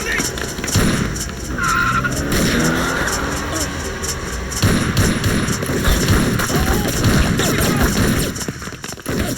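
A car peels away fast with tires skidding in an action-movie scene, a sustained roar of engine and tire noise with thuds and dense background score, voices speaking over the commotion.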